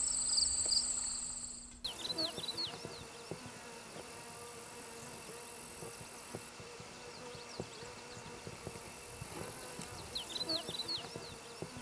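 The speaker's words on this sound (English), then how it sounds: "Native bees and flies are found collecting nectar and pollinating flowers in the process everywhere on the prairie" Native bees and flies buzzing on a prairie, with several insects droning close by in overlapping passes, over a steady bed of chirping insects and faint outdoor background.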